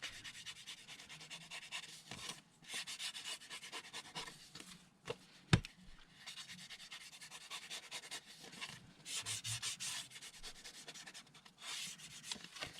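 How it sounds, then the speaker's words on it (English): Soft, continuous scrubbing as ink is rubbed onto a paper core, close and quiet with irregular strokes and a sharp tap midway. "Just inking the paper core here and then the back."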